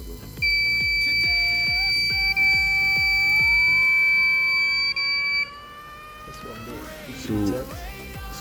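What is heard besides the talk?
buzzer of homemade radar motion detector sounding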